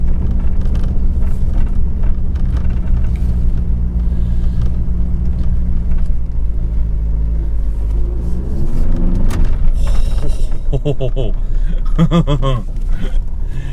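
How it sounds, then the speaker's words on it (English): A Jeep TJ Wrangler fitted with a VW BEW TDI diesel engine drives around a property. A loud, steady low diesel rumble continues throughout, with the engine note shifting and rising toward the end. "We'll just take a quick little drive around my property."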